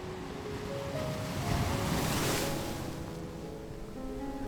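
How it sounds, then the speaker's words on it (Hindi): Sea waves washing up on a shoreline and breaking around someone's feet: a continuous broad roar of surf that swells to a louder crash midway and then eases back, with wind noise and no talking. "सागर से उठकर लहरें मेरे पैरों से इस तरह टकरा रही हैं"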